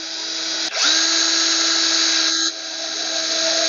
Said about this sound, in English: I'm going to use a drill bit to drill a pilot hole